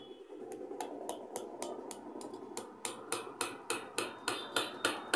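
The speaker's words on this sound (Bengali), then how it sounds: "এইভাবে কিন্তু ভালো করে বাড়ি দিয়ে দিয়ে টাইট করতে হবে" A nail hammered in during sewing machine repair, the blows starting light and spaced, then turning into a steady run of sharp, ringing metallic strikes up close.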